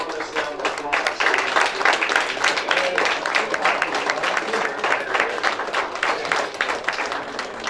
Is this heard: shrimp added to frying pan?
no